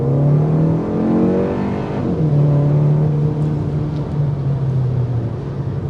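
A Kia K4 GT-Line with its turbocharged engine accelerates flat out, a loud droning engine note rising in pitch, dipping at a shift, then climbing again, heard from inside with no talking.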